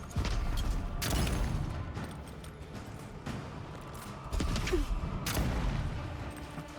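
Gunfire from a gun in the fantasy video game Avowed: several loud, sharp shots in irregular bursts, some clustered close together, with quieter mechanical clatter in between.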